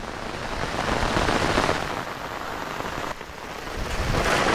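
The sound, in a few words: rain during Cyclone Remal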